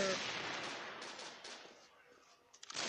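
Gunfire in the mobile shooter Crossfire: Legends, with dense, continuous automatic bursts that ease off through the middle and then flare up again sharply at the end.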